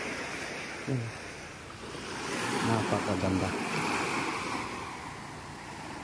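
Ocean surf and strong wind on a white sand beach at Palo Alto, Lingig, Surigao del Sur, a steady broadband roar with wind buffeting the microphone, while a person speaks briefly over it.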